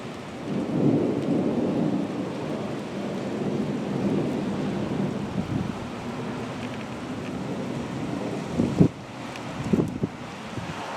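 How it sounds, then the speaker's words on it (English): A severe thunderstorm with steady heavy rain and wind buffeting the microphone, broken by deep thunder rumbles and sharp cracks near the end. "Haven't had a severe thunderstorm in so long, I kind of forgot what one was all about. But it's coming through pretty good"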